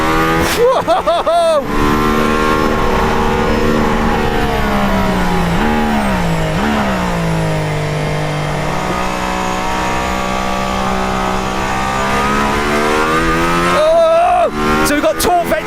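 A hypercar worth over £2 million, with torque vectoring on the front axle, drives hard on a track. Its loud engine note rises and falls through the gears and corners, and a man exclaims briefly over it.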